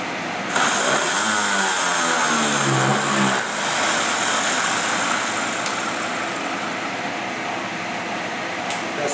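A new-concept DC motor spins at high RPM with a loud, continuous whirring rush that holds steady for several seconds close by, with no talking.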